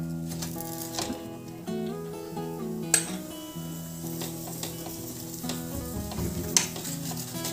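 An aloo paratha fries in ghee on a pan, a soft crackling sizzle sitting under sustained tonal music, with occasional sharper ticks and a pop or two near the middle and end.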